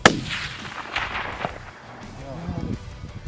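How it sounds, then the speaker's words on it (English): A single sharp rifle shot cracks right at the start during a Wyoming deer hunt, loud and close, followed by people talking and quiet movement. "Shoot it again."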